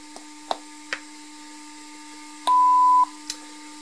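Ghost trap prop electronics set off by a pedal micro switch, giving sharp clicks and short electronic blips over a steady tonal hum, with one longer sustained beep partway through.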